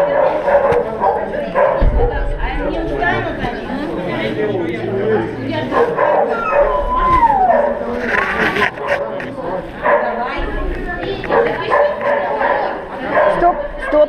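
Husky dogs at a sled race bark, yip and whimper in a noisy, excited crowd of animals, loud and close throughout. A person talks over them.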